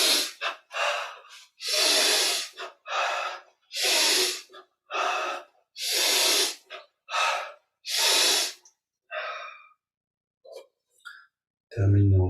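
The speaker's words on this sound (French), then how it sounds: "Termine en respirant profondément." Deep breathing during a yoga breathing exercise: a steady series of loud, close inhales and exhales in an even rhythm, fading to faint breaths near the end.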